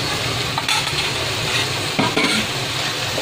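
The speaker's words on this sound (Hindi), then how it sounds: "प्याज के साथ अच्छे से भून लेते हैं।" Finely chopped tomatoes and onions sauté in a pan for chicken masala gravy, a loud continuous sizzle with occasional stirring scrapes and no talk.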